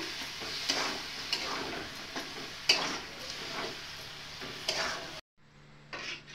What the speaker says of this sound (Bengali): আর মাংসটা আমি ভালোভাবে ভাজিয়ে নেব